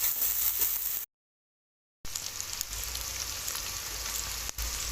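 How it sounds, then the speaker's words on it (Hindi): Potato and mince (aloo keema) frying in a pan, a steady close crackling sizzle that drops out for about a second before resuming evenly, no voices. "और इसको 6-7 मिनट में अच्छी तरह भुनाई करता हूँ।"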